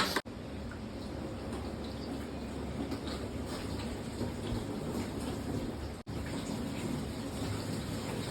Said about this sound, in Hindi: चलिए पानी तो लेके आ चुका और डालते हैं इसके अंदर पानी।